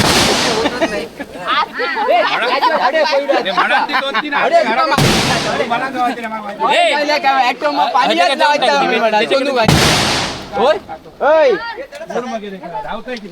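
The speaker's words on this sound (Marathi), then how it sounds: "जी काय फटाक्यांची आतषबाजी आधी तुम्ही बघताय" Two sharp, loud firecracker bangs go off several seconds apart over a noisy crowd of voices chanting and shouting at a Ganesh immersion procession.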